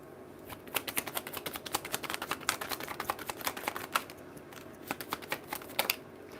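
Tarot cards shuffled quickly by hand, a steady run of crisp riffling flicks and soft slaps close by, with no voices.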